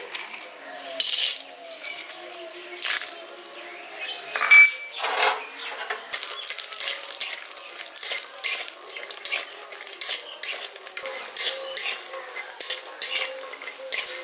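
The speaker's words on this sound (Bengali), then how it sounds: "এবার আমি সবার প্রথমে আমি বড়িগুলো ভেজে নেব।" Bori lentil dumplings fry in a little mustard oil in a wok, with a soft sizzle beneath repeated scraping and stirring strokes of a spatula and occasional metallic clinks.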